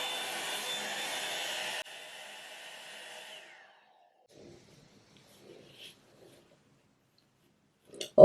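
A Revlon One-Step hair dryer brush used on 4c hair blows with a steady close whoosh for a few seconds, drops to a softer setting, then switches off, leaving faint handling clicks.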